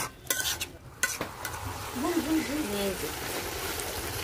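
Hilsa fish head curry with winter beans sizzles and bubbles in a pan as a little water is poured in, a steady frying hiss with stirring scrapes, close and fairly quiet, with brief speech around it.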